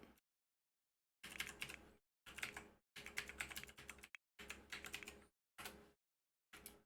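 Computer keyboard keys clatter in close, quick bursts of typing, with several short runs separated by brief silent pauses and no voices.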